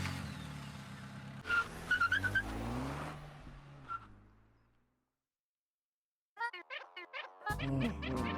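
A car in a video game pulls away with a loud engine surge that fades out over a few seconds into silence, followed by a burst of short chirping effects.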